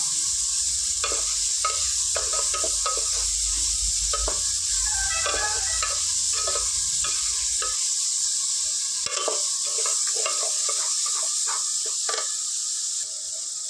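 Ridge gourd fries in a pan with a steady sizzle and frequent stirring scrapes throughout, close and fairly loud, with no talking.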